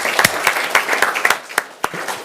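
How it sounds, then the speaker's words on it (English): Brief applause for children at a city council meeting, a small group clapping unevenly with distinct close hand claps, fading out after about two seconds. "We want to give you a clap because you guys did a great job."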